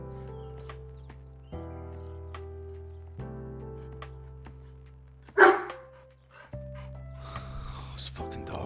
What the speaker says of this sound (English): This fucking dog.